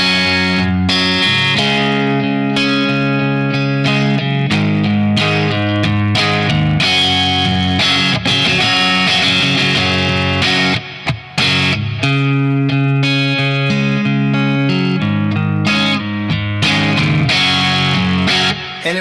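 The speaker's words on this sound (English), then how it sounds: "now I'm going to add in the Mary Cries" An electric guitar through a Bad Cat Jet Black amp with a Mary Cries pedal, playing loud, continuous overdriven chords and riffs up close, with one brief dropout near the middle.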